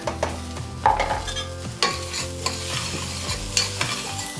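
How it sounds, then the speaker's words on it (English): Onions and garlic hit a hot pan of toasted rice and sizzle loudly and steadily close up, broken by a few scraping stirs of a utensil, with no voices. "I'm gonna add my onions and garlic."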